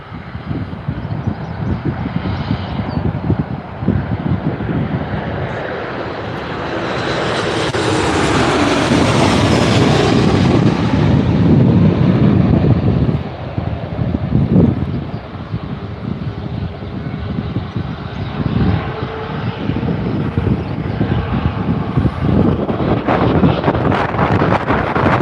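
A TUI airliner departs Newcastle Airport, its broad engine roar swelling to a peak and then easing off, with wind buffeting the microphone throughout.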